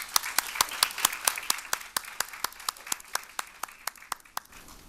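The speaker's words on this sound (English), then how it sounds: "Would you join me, please, in applauding all of our students?" An audience at a middle school speech contest applauds the students, a steady run of individual claps standing out sharply over a soft wash of clapping, fading slightly toward the end.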